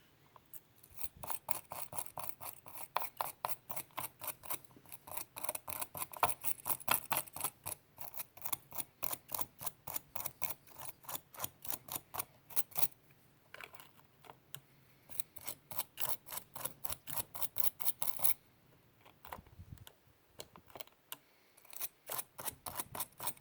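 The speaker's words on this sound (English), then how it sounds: "I'm going to clean the gears with some light oil and a little wire brush that I have" A small wire brush scrubs the gears of an RC car in fast rhythmic strokes, a long run of dry rasping scratches with brief pauses, close and fairly quiet, with no voices.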